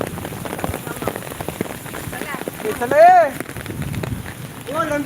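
Heavy monsoon rain pours steadily in a Konkan village, a dense wash of drops hitting surfaces throughout, with voices talking over it and a brief whistle-like tone in the middle.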